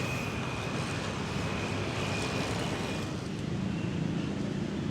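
Steady traffic noise from cars on a road in Malang, Indonesia, heard from the middle of the street near a cathedral, a continuous broad roar with no clear pauses between vehicles.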